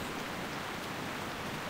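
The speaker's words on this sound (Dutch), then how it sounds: "Oh great, rain." Steady, soft rain falls in World of Warcraft Classic, an even wash of hiss with no distinct drops or voices.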